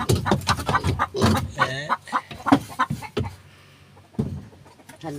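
Chickens cluck in quick bursts close by, with a drawn-out squawk midway, then quieter clucking after a brief pause.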